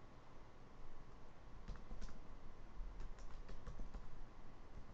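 Computer keyboard typing while entering a county name into a map title, a quiet run of soft scattered keystrokes with a few clearer clicks in the second half over steady background hiss.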